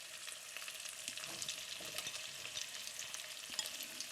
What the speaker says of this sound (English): Now we cook these until they're tender. I'll give them a little stir